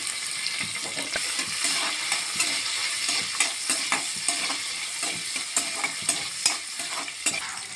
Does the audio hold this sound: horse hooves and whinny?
no